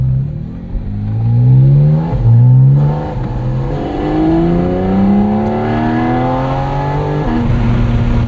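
A 2023 Porsche 718 Cayman GT4 RS with a PDK dual-clutch gearbox, its engine loud and close while driving, revving up through several rising pulls with quick gear changes in between.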